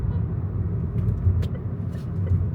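A car moves through slow Riyadh traffic before iftar during Ramadan, heard from inside as a low steady engine and road rumble with a few faint clicks and brief higher bursts over it.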